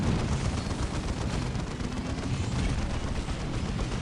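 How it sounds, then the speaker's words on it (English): Battle din in Dawn of War as an orbital bombardment lands, a continuous dense roar of blasts and gunfire that rumbles steadily for several seconds without letting up. "We do have Lionel Johnson bringing forth the orbital bombardment."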